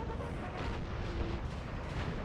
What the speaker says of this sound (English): This artillery is just ravaging.